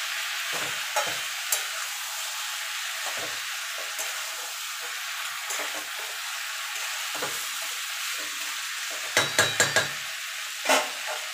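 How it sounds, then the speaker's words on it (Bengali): Mixed vegetables cook in a pan on a gas stove with a soft, continuous sizzle, broken by occasional scraping stirs and a quick cluster of clinks near the end, close and moderately quiet with no speech. "গ্যাসটা লো টু মিডিয়ামে রেখে ঢাকা দিয়ে এটাকে আমি একটু রান্না করে নেব মিনিট 3-4 ধরে"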